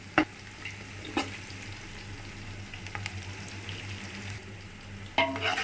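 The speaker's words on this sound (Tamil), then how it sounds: "வெங்காயம் வந்துட்டு நல்லா ரோஸ்ட் ஆகட்டும்" Onions fry and roast in a pan for chicken biryani, giving a steady close sizzle with a few sharp clinks of a stirring spoon against the pan.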